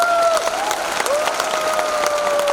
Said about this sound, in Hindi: तो हमारे डायरेक्टर्स के लिए तालियां बजाइए